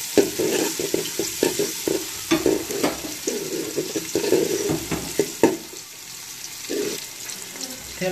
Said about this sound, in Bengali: এখন দেওয়া হচ্ছে আপনার পেঁয়াজ কুচি, পেঁয়াজটাও মিশানো হচ্ছে তেলের সাথে।